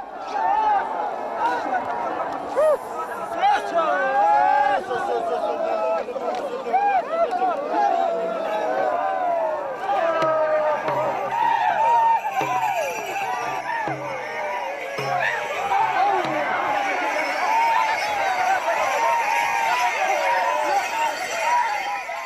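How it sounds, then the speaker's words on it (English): A wild crowd in Tibet at the raising of the Tarboche prayer pole, a continuous excited babble of many voices with shouts and clinks, loud and close throughout. "With the raising of the Tarboche, the crowd's mood has become rather wild."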